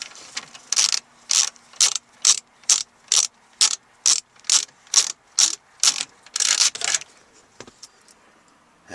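A ratchet backs out the screws holding the stereo in a Pontiac Grand Am dash: a close, steady run of about a dozen rhythmic clicking pulls, evenly spaced, then a brief quiet tail.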